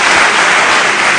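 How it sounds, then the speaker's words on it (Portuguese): Congregation applauding during a church service, loud, dense, sustained clapping throughout with no voices over it. "Dê uma salva de palmas a Jesus."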